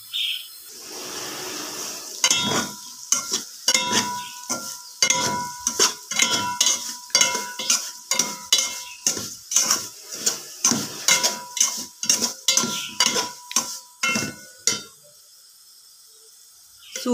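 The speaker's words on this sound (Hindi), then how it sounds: "सूजी को मैंने भूनना शुरू कर दिया है।" Semolina roasting in hot ghee in a pan for halwa, stirred with a spoon in a steady run of sharp, close scraping clinks against the metal, about one or two a second, ending in a quiet pause.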